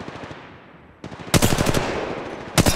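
Machine gun fire from the mobile battle royale game Apex Legends Mobile, with a short burst of rapid shots followed by another brief burst, loud and close, with no talking.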